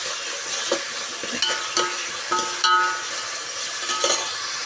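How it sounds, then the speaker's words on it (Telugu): Onions, green chillies and curry leaves sizzle steadily in hot oil for a fish curry, a dense continuous fry with scattered stirring scrapes and light clinks of a spoon against the pan, close and alone. "ఆయిల్ హీట్ అయిన తర్వాత ఉల్లిపాయలు పచ్చిమిర్చి కరివేపాకు అయితే వేసేసుకుంటున్నానండి"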